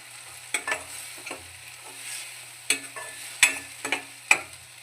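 Coconut oil sizzling in a pan while traditional Kerala chutney cooks, with a soft, low sizzle broken by several sharp scraping and stirring knocks close by.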